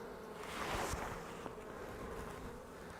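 Honeybees in an opened beehive, checked after winter, make a soft, continuous buzzing hum, faint and steady with slight swells, with no talking.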